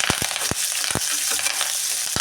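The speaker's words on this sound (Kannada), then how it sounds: "ಈರುಳ್ಳಿ ಹಾಕಿಬಿಟ್ಟು ನಾನು ಸ್ವಲ್ಪ ಫ್ರೈ ಮಾಡ್ಕೊತೀನಿ" Onion frying in a pan with curry leaves gives a bright, continuous crackling sizzle, broken by several short knocks and scrapes from stirring.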